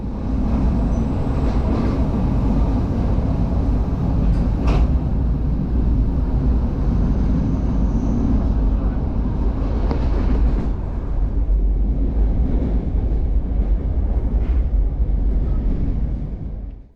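A Romanian long-distance train runs on its rails, heard from onboard as a loud, steady rumble and clatter that holds without a break, with no one talking.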